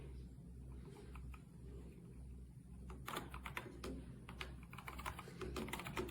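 Typing on an RK Royal Kludge F99 wireless keyboard with silent mechanical switches produces a quiet patter of soft, muffled key presses, growing denser and a bit louder in the second half, over low background hum.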